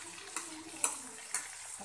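Chicken pieces frying with curry leaves for a chicken fry, turned in the pan at intervals: a steady close sizzle with four sharp scraping stirs spaced about half a second apart.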